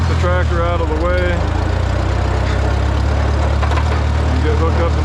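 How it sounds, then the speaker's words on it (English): A Farmall A tractor engine runs steadily with a low, continuous drone as it is moved, while someone talks over it throughout. "Alright, park the tractor out of the way"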